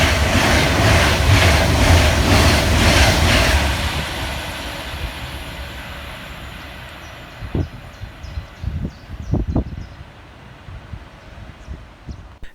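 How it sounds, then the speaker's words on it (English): An Avanti West Coast Class 390 Pendolino, 390126, passes fast through Goostrey station on the London Euston to Manchester Piccadilly service, a loud rushing roar at first that fades away, followed by scattered rattles and clicks. "Next to pass through for Avanti West Coast is 390126, running 7 minutes late with 1H63 from London Euston through to Manchester Piccadilly"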